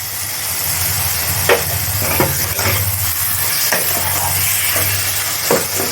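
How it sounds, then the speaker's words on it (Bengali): Masala for a spinach paneer curry fries in a pan with a steady sizzle and hiss, broken by several distinct scraping stirs spaced a second or so apart, close and fairly loud. "পাঁচ মিনিট মশলাটাকে আমি কষিয়ে নেব।"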